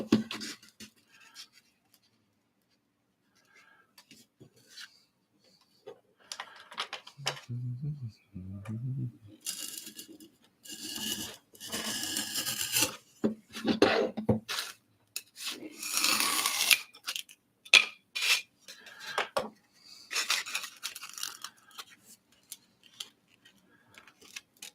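Scissors or a craft knife cut out wall pieces for tabletop dungeon tiles, giving scattered snips, scrapes and rustles of card or foam in quiet bursts, with a few low knocks early on and no talking.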